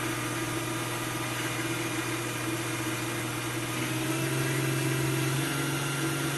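A cheap 775 DC-powered spindle fitted with a 10 mm coated end mill runs at a constant speed, a steady droning motor whine with a faint pitch shift midway, and no speech.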